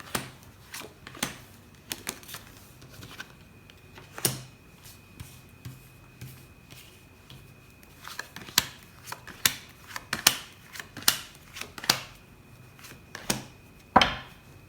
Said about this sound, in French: Alors je vais mettre les 12 cartes sur la table.